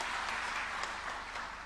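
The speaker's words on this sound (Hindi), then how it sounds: "ताली बजाइए इस बात के लिए।" An audience at a speech event applauds with a dense, continuous wash of clapping that holds at a steady, moderate level for a short stretch, with no voice rising above it.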